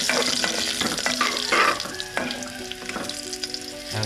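Garlic sizzling in hot oil in a home kitchen, a continuous bright crackle with tonal clinks and scraping from stirring or handling utensils, close and steady.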